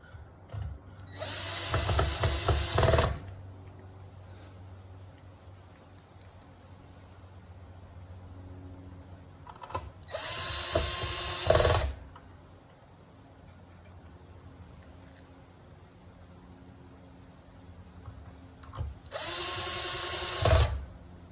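A power drill drives screws into the blades of a Modern Forms Tip Top smart ceiling fan during installation, with three loud whirring bursts separated by quiet pauses filled with faint handling noise.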